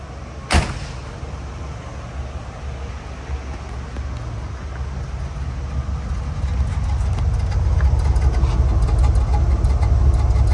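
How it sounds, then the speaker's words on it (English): A low, steady exhaust rumble from a 1977 Cadillac Eldorado Biarritz, muffled by a rear resonator, idles quietly and continuously, with a brief sharp knock near the start. "We'll go give a listen in the back to just how quiet that tailpipe is."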